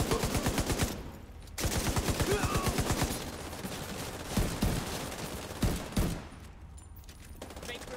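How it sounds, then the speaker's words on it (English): Rapid automatic gunfire from a video game repeats in a dense, loud, steady rhythm, then breaks into scattered shots and bursts under a constant noisy background. "What is this shooting there as well?"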